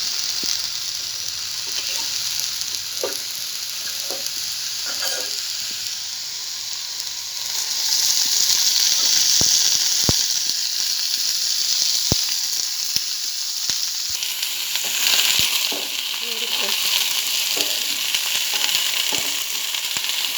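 Tomatoes frying in oil for a tomato chutney, a steady close sizzle and hiss that swells louder midway, with scattered light clicks and stirring scrapes throughout and no talking.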